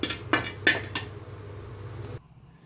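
Metal spoon scraping and clinking against a pan while mixing coriander powder with whole spices, a few sharp knocks early on, then a continuous low rumble that drops away abruptly.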